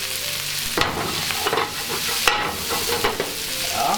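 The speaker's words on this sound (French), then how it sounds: "on met le choucal. Donc, ça va crépiter un petit peu, c'est normal." Cabbage crackling and sizzling as it fries in a hot pan with a little water still in it, steady frying with occasional stirring scrapes, close and moderately loud, one brief spoken word.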